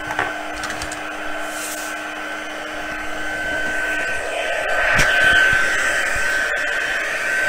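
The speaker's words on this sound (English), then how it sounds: "If you preheat your heat tool, it will melt the embossing powder a lot faster" An embossing heat tool blows steadily close by, a continuous whirring hiss with a faint high whine that grows slightly louder partway through, with no talk.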